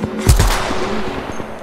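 Gunfire in a battle royale video game: a short, sharp burst of a few shots at the start, followed by a fading echoing tail.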